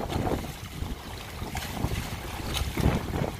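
Strong wind buffets a boat at sea as rough waves slosh and crash against the hull, a steady dense roar with gusts of microphone wind noise and no speech.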